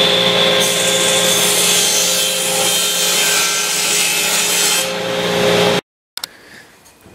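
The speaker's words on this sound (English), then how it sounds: "I'm going to head over to the table saw and I'm going to cut this plywood" A table saw rips steadily through plywood for several seconds, loud and continuous, then cuts off abruptly, leaving a brief faint clatter.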